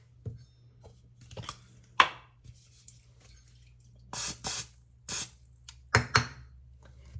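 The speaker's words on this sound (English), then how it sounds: "I'm just going to lightly spray the inside of it with some nonstick spray" Several short hissing bursts of nonstick cooking spray coating the inside of a pan, with light clinks and taps of kitchenware in between.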